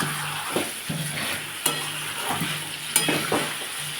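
Bengali-style potato curry masala with ginger and ghee is stir-fried in a pan. Close, repeated scraping strokes of a spoon run over a continuous sizzle, with a couple of sharper clinks against the pan.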